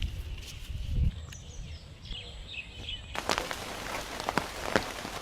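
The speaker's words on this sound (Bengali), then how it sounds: "এইতেই বৃষ্টিটা পাইয়ে গেলে দর্শক, বৃষ্টিতে তো পাইয়ে গেছে।" Rain falls steadily on a rainy afternoon, a soft continuous patter of drops on surfaces with a few sharper close drips and faint bird chirps in the background.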